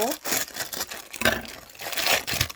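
Scissors snip and tear through plastic packaging on a small Daiso cinnamon squeeze item, giving several close, crinkly cuts and scrapes at an uneven rhythm with no talking.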